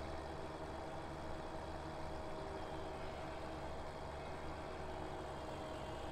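A tractor engine running steadily in Farming Simulator while it breaks down during mowing, a constant low droning hum with no breaks and no voices.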